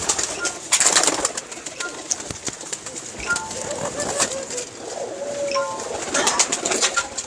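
Pigeons coo at a pigeon-keeping loft in Jhelum, soft repeated coos mixed with rustling and occasional wing flaps over steady outdoor background noise, with a faint voice at times.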